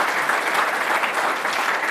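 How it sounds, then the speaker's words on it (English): An audience claps loudly and continuously, a dense burst of applause from a room full of people. "Could we get a little applause for all the people up here?"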